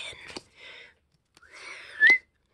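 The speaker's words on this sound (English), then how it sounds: "That was a bad whistle." A person whistling in short, wavering bursts, the last note rising sharply, close and fairly loud, with a couple of clicks in between.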